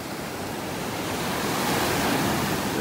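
Ocean waves breaking on a beach in North Naples, Florida, heard as a steady, broad roar of surf that swells slightly louder toward the end, with no voices.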